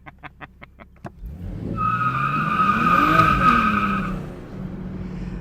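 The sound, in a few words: BMW M240i tires skidding with traction control off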